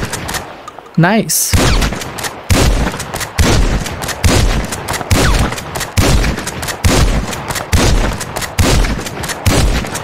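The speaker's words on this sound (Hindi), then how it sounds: "सबसे पहले शॉटगन ही मार के देख लूँ क्या, शॉटगन काफ़ी सही रहती है ना।" Shotgun fire in GTA 5: a rapid, steady string of loud, close blasts, roughly a dozen shots in quick rhythm, with a brief spoken remark near the start.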